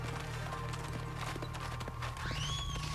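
Kazegami the horse gallops in Okami, quick hoofbeats clattering over a steady low game drone, ending with a short high whinny near the close; no voices.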